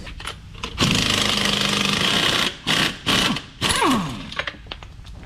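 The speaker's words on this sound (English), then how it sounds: "So we're gonna go pull one bolt out, put a lock washer, and put it back in." A power tool removing and refitting hub bolts fitted with lock washers runs in one long loud burst, then three shorter rattling bursts, up close.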